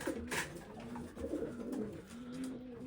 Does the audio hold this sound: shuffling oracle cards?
no